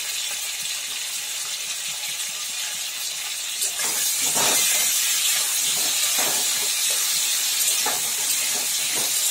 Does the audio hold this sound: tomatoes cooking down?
yes